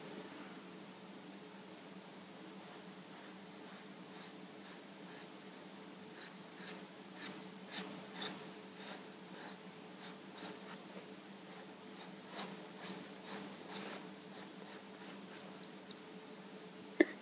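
A Derwent medium charcoal pencil drawing an outline on paper gives soft scratchy strokes in irregular bursts, close and quiet, over a steady low hum of room or fan noise, with no talking.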